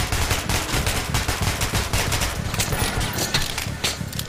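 Sustained rapid gunfire from a shooter video game, Metro: Last Light: dense, continuous bursts of loud, close shots rattling for several seconds without pause.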